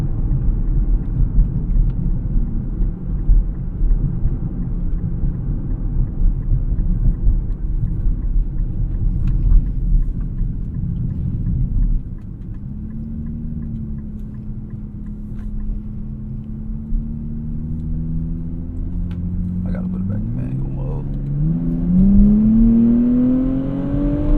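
A 2024 Nissan Z Nismo's engine and road rumble fill the cabin on a sunset drive over rough roads, steady at first, then rising in pitch as the car accelerates near the end.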